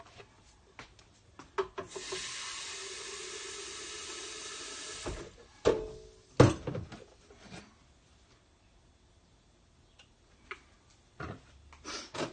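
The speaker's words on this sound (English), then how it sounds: "let me put some water in it, and you can watch it clean" Tap water runs steadily into a container being rinsed clean while making raw vegan ranch dressing, a broad hiss lasting a few seconds, followed by scattered knocks, clatter and handling noises.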